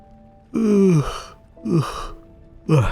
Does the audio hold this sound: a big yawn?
yes